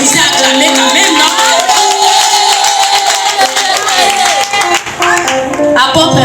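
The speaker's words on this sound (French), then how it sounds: "Mais applaudissez, acclamez quand même" A church congregation claps and cheers loudly throughout, mixed with music and voices.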